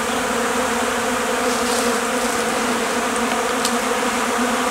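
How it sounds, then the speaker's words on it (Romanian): Honey bees feed on a protein supplement in February, and a dense, continuous swarm buzz sits close and fairly loud throughout, with no talking. "Minunăție de albinuțe."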